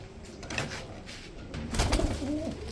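Tumbler pigeons at a pigeon market coo in low, rolling bursts that swell louder toward the end, with faint crowd noise behind.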